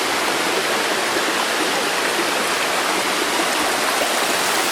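A mountain stream rushes along in a steady, dense, broadband wash of flowing water. It stays even and constant throughout, with no pauses and no voices.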